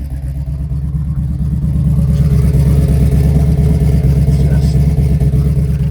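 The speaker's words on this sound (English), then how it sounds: "Magnaflow stainless steel exhaust." The engine of a 1978 Pontiac Trans Am SE with a Magnaflow stainless steel exhaust rumbles nearby, a steady deep burble that swells slightly partway through and then holds at a loud idle.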